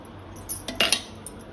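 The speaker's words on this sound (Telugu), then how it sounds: "ఇప్పుడు మనం ముందు వేయించుకున్న పోపు ఇలా వేసేస్తాం పైన" A spoon scrapes and clinks against a metal pan while fried tempering is tipped over a ridge gourd and tomato chutney, a few light close metallic taps in quick succession with no talking.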